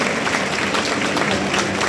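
A stadium crowd applauds runner-up Kashiwa Reysol at the Japan League Cup final ceremony. The clapping is brief, broad and fairly distant, mixed with general crowd noise.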